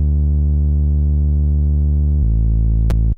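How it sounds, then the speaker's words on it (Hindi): A synth bass designed in Serum and played in FL Studio for a tropical house track: a loud, pure sustained low tone that shifts to a second note partway through and ends with a brief high click. "ये बेस का साउंड मैंने खुद ही ने सीरम पर प्ले कर दिया था"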